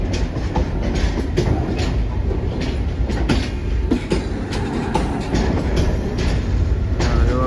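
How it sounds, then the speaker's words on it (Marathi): A train bound for Panvel rumbles past close by with steady clattering of wheels on the rails, loud and continuous throughout. "ट्रेन आता पनवेला जाईल पनवेलला"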